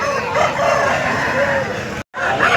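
Chickens and a rooster crow and cluck at a crowded, rain-soaked poultry market in Piler, a dense continuous din that breaks off for a moment near the end before starting again.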